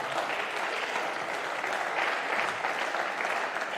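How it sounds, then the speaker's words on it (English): Sustained applause from a seated crowd at a squash league event in an Amsterdam stadium, steady and dense clapping throughout without a break. "So big round of applause for them, please"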